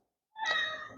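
A single house cat gives one short, clear meow, close by and fairly quiet, rising out of silence.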